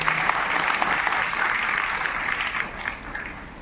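An audience at a state-level prize distribution ceremony in Latur bursts into applause: dense, even clapping from a crowd, loud and continuous, tapering slightly toward the end.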